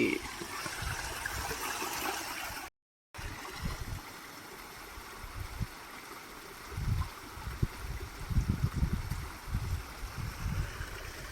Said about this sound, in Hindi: ऊपर पत्थर से रिस रहा है पहाड़ों से जड़ी बूटियों का पानी